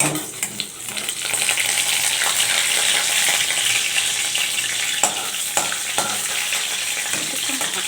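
Black cumin seeds, dried red chilli and garlic frying in hot oil, a steady close sizzle with faint crackles and a few sharp pops throughout.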